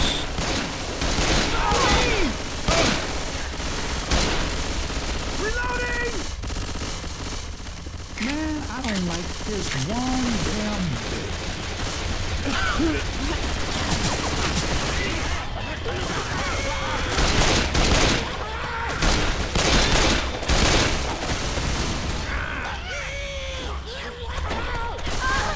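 Gunfire in Left 4 Dead on The Turnpike map crackles in dense, repeated volleys alongside mechanical clatter and game sounds, with players talking over the action throughout.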